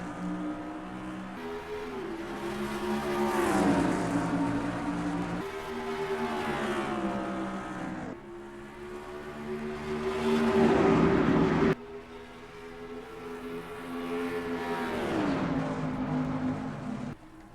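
Race cars in the NR2003 racing game at Dover Motor Speedway roar continuously, their engines rising and falling in pitch through repeated rev sweeps, loud and close with cars passing, no voices.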